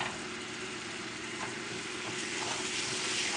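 A small hot wok gives a steady, close frying sizzle with a few faint clinks and stirring touches; no voices.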